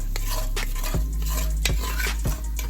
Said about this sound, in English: You just want to go in with your brown sugar and kind of scrape the pan with your sugar